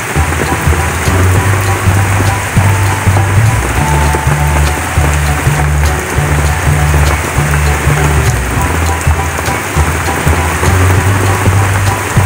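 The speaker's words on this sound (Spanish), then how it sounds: "Qué hermosa lluvia." Rain pours down on an afternoon in Dayton, Ohio, producing a constant close hiss of drops on surfaces with a low steady rumble underneath, unbroken and without speech throughout.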